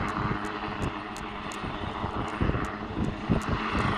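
A rescue helicopter hovering nearby at Beachy Head at night, a loud, continuous rotor and engine drone with a pulsing beat, heard outdoors in wind.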